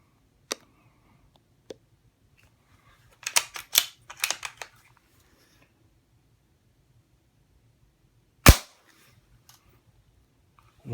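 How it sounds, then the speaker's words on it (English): An Integral-suppressed CZ455 rifle fires subsonic .22 ammunition indoors, giving sharp, isolated cracks: one near the start, a faint one after, a quick cluster of metallic clicks and handling noises, then a single loud report later and another at the end. "We're shooting subsonic box 22 ammo."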